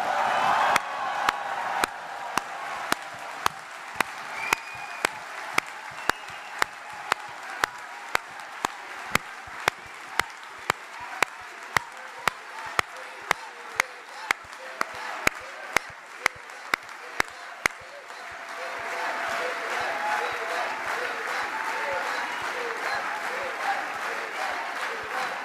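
Sustained audience applause from a standing crowd at an Indian community event in Sweden, honouring Sweden's prime minister; dense clapping continues throughout, with sharp claps standing out, then swells into a fuller, louder ovation toward the end.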